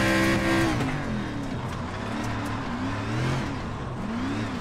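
A dirt race car in iRacing revs loudly as its engine pitch rises and falls through throttle changes, mixed with tire scrubbing and sliding on the dirt track.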